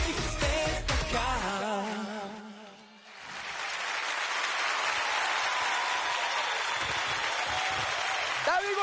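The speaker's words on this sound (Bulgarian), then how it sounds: "Аплодисменти!" Studio audience applause on a Bulgarian celebrity impersonation TV show, rising after a sung passage and holding as a dense, loud, steady wash of clapping and cheering for several seconds.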